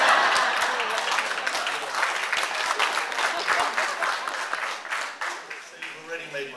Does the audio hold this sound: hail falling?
no